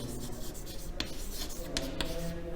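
A pen or chalk scratches steadily across a writing surface during a physics lecture, soft rubbing strokes with a few sharper taps, heard faintly and alone without speech.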